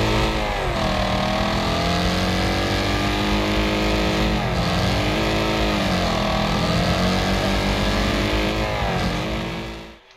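Race car engines in the Wreckfest racing game drone loudly and continuously, pitch sweeping up and down through repeated revving cycles for about ten seconds before cutting off abruptly, with no talking.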